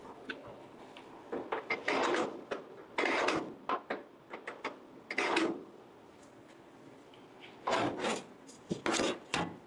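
A scribe scratches a marking line on the metal of a rusty, rotten VW chassis, making a series of short, gritty scraping strokes in irregular bursts with brief pauses, close up and alone.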